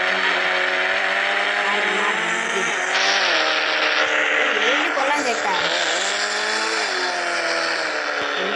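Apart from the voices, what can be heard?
Nissan GTR car driving in a video game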